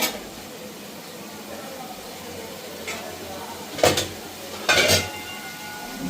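Spices are stirred and fried in oil in a pan, giving a low background sizzle broken by two short, loud metallic scrapes and clinks of the spoon against the pan.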